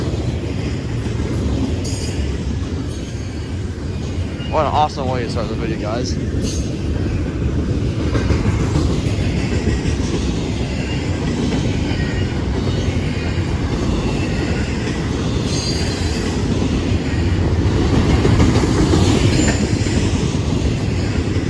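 A long train rolls by nearby with heavy rumbling and clattering wheels, shrill squeals rising briefly, while someone speaks once over the noise.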